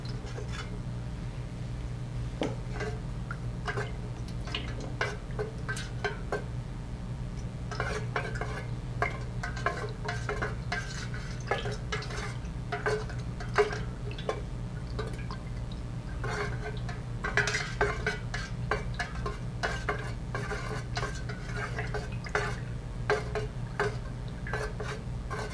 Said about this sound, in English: we'll add the dye and stir it up.